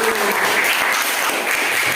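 A classroom audience claps in a dense, steady burst of applause, many hands close by, with faint voices mixed underneath.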